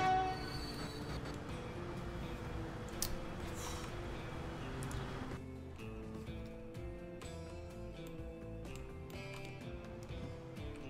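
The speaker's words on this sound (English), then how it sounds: "Look at that beautiful train, boys." Train in the video game Transport Fever, rumbling steadily with dense mechanical noise and sustained horn-like tones, loud and continuous throughout, easing slightly after the midpoint; no talk.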